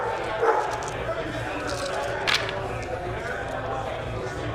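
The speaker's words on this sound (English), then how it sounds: "Stop woofing." A dog barks a few times, in brief woofs heard over the busy chatter and background noise of a Warhammer 40K tournament hall.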